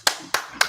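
Three sharp hand claps ring out at an even, brisk pace, each crisp and close with a short tail, and no talking between them.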